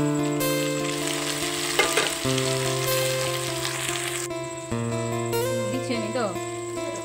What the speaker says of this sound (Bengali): মাংস রান্না চাপিয়ে দিলাম